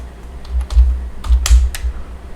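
Fingers typing on a computer keyboard, a short burst of several distinct key clicks in uneven rhythm, close and clear, with no talk.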